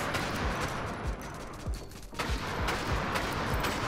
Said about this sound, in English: Go ahead and just shoot at this thing.